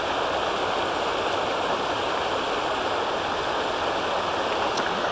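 Floodwater rushing through a river channel over a flooded road, a loud, continuous broadband roar of flowing water, constant and close with no breaks and no voices.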